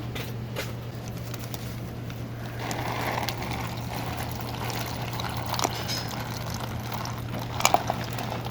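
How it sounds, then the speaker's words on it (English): Rock tumbler grit and rocks are poured through a strainer, a soft wet trickling and gritty rattle under a steady low hum, with a few sharper clinks of stones near the end. "We're going to pour it through here."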